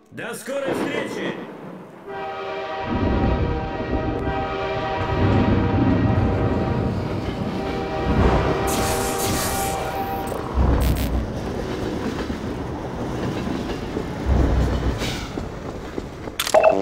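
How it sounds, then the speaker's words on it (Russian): A train rumbling and rolling in Half-Life 2: Episode One, a sustained low mechanical drone with tonal hum and occasional louder clanks, heard close alongside bursts of game noise and brief voices. "Я подгоню поезд."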